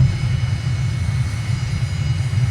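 Steady, loud low drone of a simulated aircraft engine during a landing in Microsoft Flight Simulator, continuous and even throughout with no speech.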